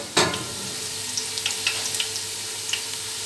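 Onions browning in a pan for mutton pulao give a steady, even sizzle throughout, with a sharper burst at the start and light scattered clicks of stirring close by.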